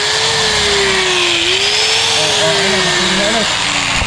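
A DeWalt power tool runs after a carbon brush repair, its steady motor whine loud and continuous, with pitch shifting slightly as it spins, close up and filling the whole stretch.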